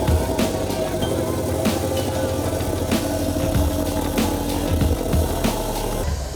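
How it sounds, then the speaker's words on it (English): A Milwaukee MX Fuel cordless plate compactor runs with a steady mid-pitched motor hum and repeated thumping impacts, its rhythmic pounding holding through the whole stretch. "We're the only plate compactor in the market with reverse now."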